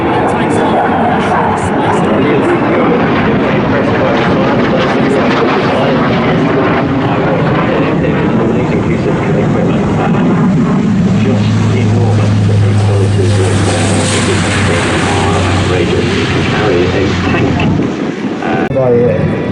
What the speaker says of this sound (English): The Hercules. They're a big aircraft.